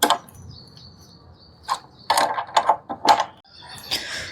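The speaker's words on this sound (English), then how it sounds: "So tighten all 4 bolts." Ratchet tightening the windshield bolts on a Triumph Scrambler 400X, with several short bursts of rapid clicking and metallic handling sounds, close and fairly loud.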